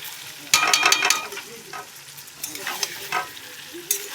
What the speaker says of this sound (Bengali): আগে মাটনটা ভালো করে কষিয়ে নিই, খুব সুন্দর একটা গন্ধ বেরিয়েছে।